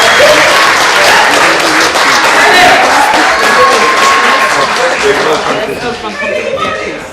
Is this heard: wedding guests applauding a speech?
yes